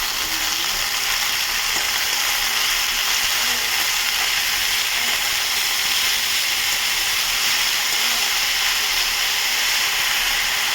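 Thinly sliced potatoes fry in a pan with a steady, close sizzle that holds evenly for the whole stretch, with no voices.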